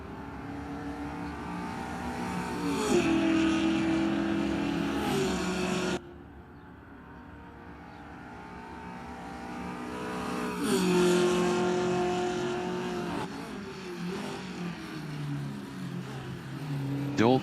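Open-wheeler race car lapping a circuit during an SMSA championship session, its engine note swelling as it approaches and revs through gears, cutting off sharply, then building again for a second loud pass.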